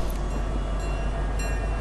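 A train moving in the video game Fortnite, a loud continuous low rumble with a steady rolling hum, close and without talk.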